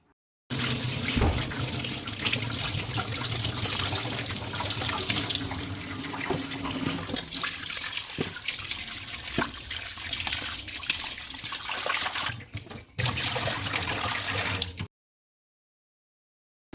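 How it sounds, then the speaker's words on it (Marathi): Tomato, onion and cabbage are washed under a running kitchen tap: a steady, close stream of water splashes for about fourteen seconds, briefly interrupted once, then stops into silence. "आता इथे टोमॅटो कांदा आणि कोबी आपल्याला स्वच्छ धुवून घ्यायचा आहे"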